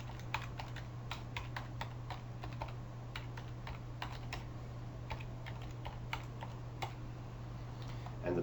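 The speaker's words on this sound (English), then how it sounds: "you can just type in the URL of whatever link you want to put in." Rapid typing on a computer keyboard while entering a URL, with steady clicking keystrokes close to the mic over a constant low electrical hum and no talking.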